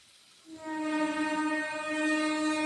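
A train on the railway line behind a house sounds a long, sustained horn that swells in and holds steady, loud and fairly close, with no talking.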